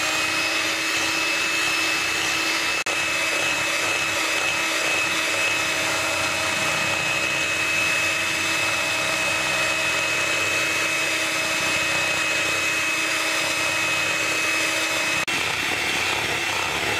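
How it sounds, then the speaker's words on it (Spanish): Chilled cream being whipped with an electric mixer for homemade three-ingredient mango ice cream. A steady motorized whir runs close and unbroken for about seventeen seconds, with brief shifts near the start and end and no talking. "Ahora vamos a proceder a batir la crema de leche."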